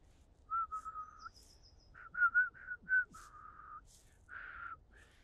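A person whistles a short bird call imitation: several clear tonal notes, some sustained and some quick chirps, with quiet pauses between.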